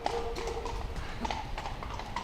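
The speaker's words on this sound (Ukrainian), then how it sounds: "Столичні зони відпочинку прочісують поліцейські на конях." Police horses patrolling a recreation area in Kyiv clip-clop steadily along, a repeated hoofbeat rhythm that is close and clear, with faint background noise.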